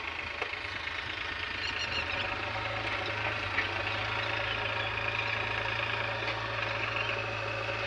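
A Sonalika DI 42 tractor engine runs steadily while unloading at a pond-digging site, a continuous mid-to-low idling drone with a rough knocking texture and no voices.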